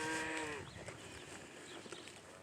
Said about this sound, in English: They're all mooing for their mamas.